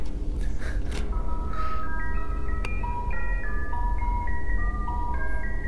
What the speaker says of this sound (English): There's an ice cream truck outside.